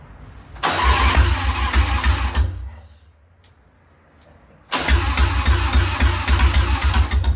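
A 1993 Harley-Davidson Softail motorcycle engine is started twice, running loud and close with a deep, uneven idle for a couple of seconds, then a pause, then a second start that keeps running.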